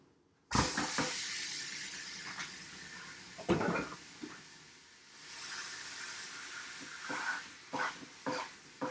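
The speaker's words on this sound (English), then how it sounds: "I'm going to brown the meat." Ground meat sizzles steadily in a skillet sprayed with Pam, a continuous hissing fry punctuated by sharp clanks of a utensil against the pan and brief scraping stirs, close and moderately loud.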